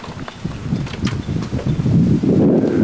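Steady, rumbling wind from a hurricane's remnants buffets the microphone in Punta Gorda, Florida, building stronger toward the end, with a faint rustle of leaves.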